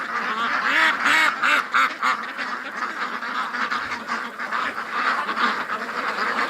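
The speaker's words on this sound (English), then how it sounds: "Oh, look at that little duck." Several ducks quack loudly and almost nonstop close by, a busy overlapping chorus of calls at a home near a lake.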